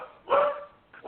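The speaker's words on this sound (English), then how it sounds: "Who's got the dogs now?" A dog barks twice in quick succession, close and fairly loud, with a short gap between the sharp yelps and no talking.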